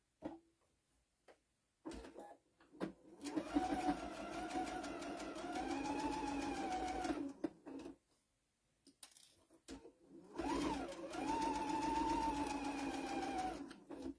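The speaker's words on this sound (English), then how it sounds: "And I'm going to sew across on the line." A sewing machine runs a straight line of stitches across a Halloween bag in two steady bursts, each several seconds long and separated by quiet pauses, close and alone.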